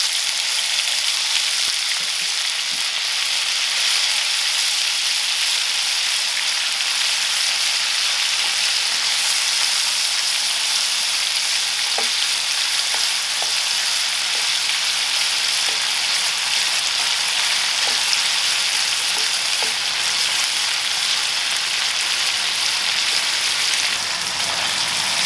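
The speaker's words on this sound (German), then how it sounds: "So, der Käse wird angebraten, bis er etwas weich ist." Brined cheese frying in butter in a pan, a loud, continuous, even sizzle with occasional small pops, heard close up and alone.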